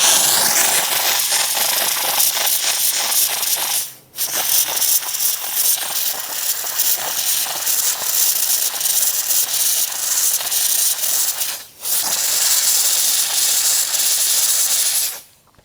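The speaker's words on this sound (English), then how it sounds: "we might be able to get some steam in there" Steam hissing loudly and continuously into a stubborn glue joint in naturally finished walnut, a harsh close-up rush broken by two brief pauses.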